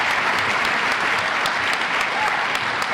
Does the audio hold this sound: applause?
yes